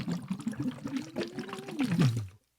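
Air is blown through a straw into water, making a close, bubbling gurgle with a sustained tone that slides upward, then drops low before cutting off abruptly.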